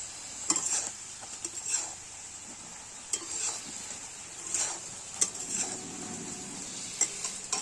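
A spoon stirs oil-free raw mango pickle with sugar in a pan: a soft bubbling sizzle with intermittent scrapes and clinks against the metal, close by, and nobody speaking.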